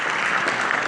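A brief burst of dense applause from an event audience for a Philippine tourism company, loud and close.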